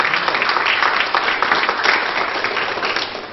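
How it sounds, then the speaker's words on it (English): A Pentecostal church congregation claps during a service, a brisk, dense patter of many hands, loud and close at first and tapering slightly toward the end of a few seconds. "You can clap for Him."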